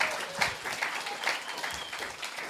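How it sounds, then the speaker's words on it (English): Applause from an audience at a community meeting honouring employees of the month, a steady wash of clapping hands for a few seconds, moderately loud and without speech. "give our entire Employees of the Month and Rookies of the Month one more round of applause"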